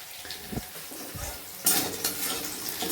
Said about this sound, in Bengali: এদিকে এই যে মশলাটা কষিয়ে নিয়েছি